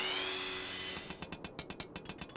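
Rapid hammer strikes ring out in Final Fantasy XIV, a quick series of about a dozen sharp metallic taps following a faint tonal hum, close and fairly quiet.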